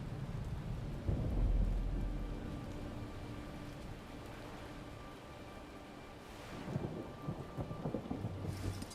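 A thunderstorm in Guild Wars 2 brings steady rain with rolling thunder, a deep rumble swelling early, then softer patter and another growing roll near the end.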